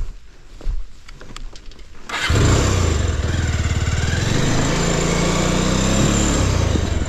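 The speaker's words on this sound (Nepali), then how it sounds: "त्यही म ट्राई गर्छु बाइक लानलाई।" A motorcycle being tried on a rough, narrow path starts with a few clicks and knocks, then its engine kicks in and runs loud and close with a steady, throbbing idle and slight rev changes.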